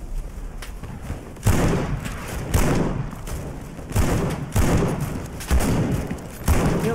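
Rifle fire and explosions in the WWI battle game Over The Top, heavy booming shots landing about once a second amid continuous battlefield rumble.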